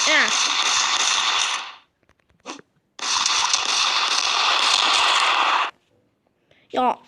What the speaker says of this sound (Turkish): İlla ki mermi sıkacak.